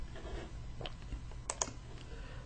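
Typing on a computer keyboard while entering a transfer amount in accounting software, a few quiet scattered keystrokes and clicks, with two sharper taps standing out near the middle over faint background hum.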